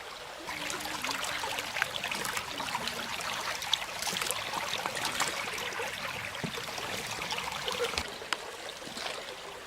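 Creek water flows steadily nearby, a continuous broadband rush and trickle with small splashes, no talking over it.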